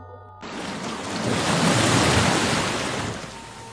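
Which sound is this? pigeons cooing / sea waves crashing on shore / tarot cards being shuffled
sea waves crashing on shore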